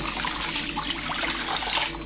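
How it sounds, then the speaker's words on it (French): Water pours steadily from a tap onto couscous semolina, a loud, continuous rushing splash that runs without a break and with no voices. "Je vais mettre de l'eau."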